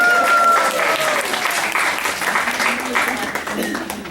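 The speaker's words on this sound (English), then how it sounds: "Round of applause." A room of knitting guild members at a general meeting breaks into a round of applause, steady and moderately loud, fading slightly over a few seconds with a voice briefly audible at the start.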